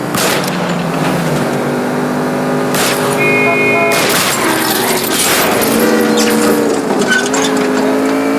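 Gunfire aimed at a fleeing car's tires during a chase in the video game L.A. Noire, sharp cracks over loud, continuous engine roar and tonal music, with no talk.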